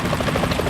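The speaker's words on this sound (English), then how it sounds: "Is that a chopper I just heard?" Helicopter in the video game Metal Gear Solid 2, a brief burst of rotor thrum with pulsing blade chop, fairly loud and heard alone.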